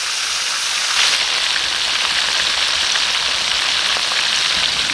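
Lapu lapu grouper deep-frying in oil, a dense, loud, continuous hiss of bubbling like heavy rain, steady and close with no speech.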